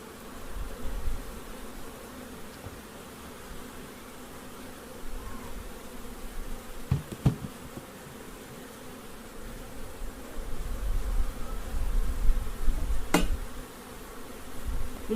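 Honey bees hum steadily around a long hive, a dense continuous buzz with a few louder passes of single bees close by.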